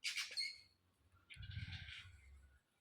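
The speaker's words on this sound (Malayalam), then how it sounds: "ഒരു കാക്കയുണ്ട് വഴക്കുണ്ടാക്കാൻ" A harsh bird squawk rings out at the start, then a second raspy call follows over a low rumbling background, moderately distant and faint.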